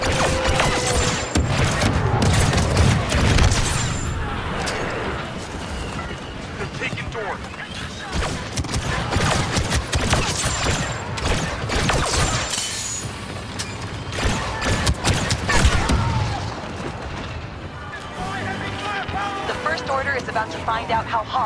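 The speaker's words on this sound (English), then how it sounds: "Calling in a mortar." Mortar strikes in Star Wars Battlefront 2 land as heavy booming explosions among rattling battlefield gunfire, loud and repeated across a busy fight, with voices calling out over the din.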